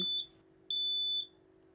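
Two high-pitched electronic smoke alarm beeps, a short one then a longer one, over a steady low hum, with no voices.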